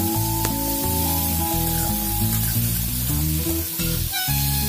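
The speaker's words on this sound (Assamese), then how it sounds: "এতিয়া এইখিনি মই বেলেগকৈ ভাজি আছোঁ" Chopped vegetables with fresh tomatoes fry in a pan, giving a steady, close sizzle that runs unbroken under a layer of sustained tonal background sound.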